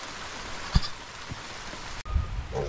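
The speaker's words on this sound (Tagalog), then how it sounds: "Baka hindi na tumigil yung ulan." Steady rain falls over a rural goat-raising yard in the late afternoon, a continuous hiss with a few nearby sheep-like bleats and a brief thump breaking through.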